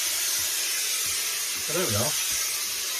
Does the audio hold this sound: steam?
yes